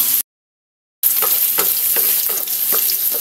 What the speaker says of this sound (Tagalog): Habang nila-light brown natin ng kaunti yung ating pork at mag-isa muna itong bawang sibuyas